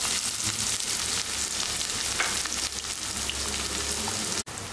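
Onion fries in oil for a prawn curry, a dense continuous sizzle with faint crackles, steady and close, ending in a brief sharp cutoff.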